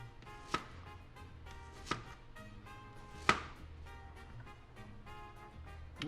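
A knife slices through radish on a cutting board in a quiet kitchen, giving a few sharp, widely spaced cuts with softer taps between them, close by and with no talking.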